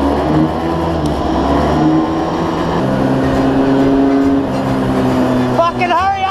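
A go-kart engine drones steadily and loudly while drifting through Tokyo streets, a continuous buzzing motor with shifting pitch, with someone briefly shouting near the end.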